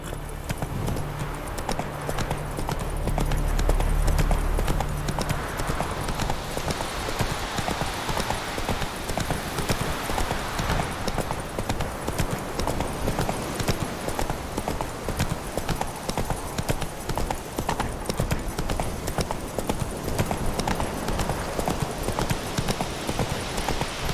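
Hooves of the horse Roach in the video game The Witcher 3 beat a steady, rapid clip-clop rhythm throughout, close and even, with a low rumbling swell near the start.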